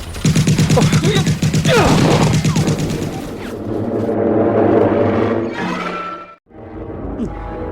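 Bursts of rapid gunfire crackle as a sound effect in a radio drama, loud and dense at first, then giving way to rumbling effects and shouting voices.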